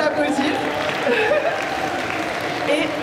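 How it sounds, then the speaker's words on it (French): Audience applause at a Lolita fashion show at Animasia 2024 as a young model walks the runway, a dense, steady patter of many hands lasting throughout, with a voice talking over it. "On peut l'applaudir."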